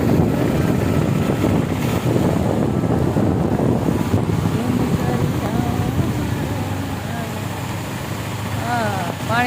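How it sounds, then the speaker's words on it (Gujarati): At Willingdon dam in Junagadh after rain, water pours over the spillway in a loud, continuous roar with wind buffeting, while people talk nearby. "પાણી ચાલુ છે ફૂલ જો"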